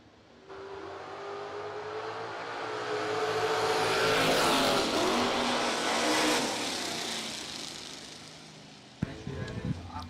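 Drag race between a Chevelle and a Nova, engines roaring up into a loud sustained wail that peaks mid-run and fades as the cars pull away down the track.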